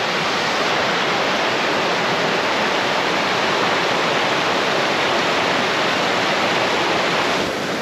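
Rushing river water at a river crossing near Klondike Notch, a steady loud broadband roar of flowing current that holds constant throughout with no voices.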